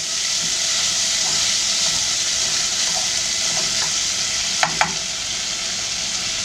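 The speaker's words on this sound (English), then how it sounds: "They're sizzling." Smoked ham hocks sizzle steadily in a hot pot, a dense, even frying hiss throughout with a few faint pops and two sharp clicks near the end.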